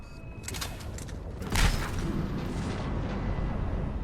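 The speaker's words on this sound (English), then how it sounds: "Those cannons have to be stopped." Heavy cannon fire from the Mass Effect 3 video game booms once loudly, followed by a long rumbling tail and sustained low roar of battle, with no talk.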